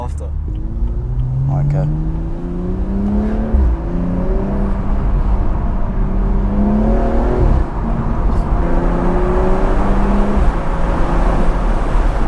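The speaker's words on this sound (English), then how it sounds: "You proper hear the turbo spooling." A BMW M235i drives hard along back roads, its engine note rising through the gears while the turbo spools, loud and close inside the car, with a brief word spoken over it.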